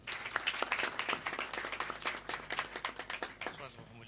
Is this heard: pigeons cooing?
no